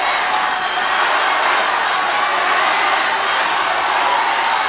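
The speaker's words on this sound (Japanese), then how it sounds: "フッチーコールが聞こえるか。" Wrestling crowd at Korakuen Hall during a 1991 Toshiaki Kawada vs. Masanobu Fuchi match, a loud dense roar of cheering and chanting throughout, with voices mixed in.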